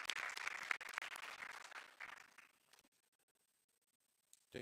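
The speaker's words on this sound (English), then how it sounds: "Let's give our panelists a round of applause." An audience applauds panelists at a film expo session, a dense, even burst of clapping that rings on for about two seconds, then thins and dies away into near silence.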